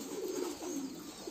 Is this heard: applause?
no